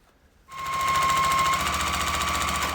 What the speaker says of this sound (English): So first step is to sew the sides and the bottom 1/4 inch seam allowance